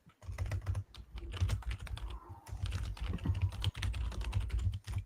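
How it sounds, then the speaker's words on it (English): Rapid, steady keystrokes on a computer keyboard, close and fairly loud, clattering continuously with short pauses and no talking. "Just typing away at the keyboard,"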